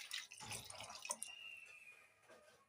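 Water is poured into rice cooking with curry and thyme, faint splashes and trickles arriving in short irregular bursts, followed by a thin dripping stream and a brief clatter at the end, all quiet and close.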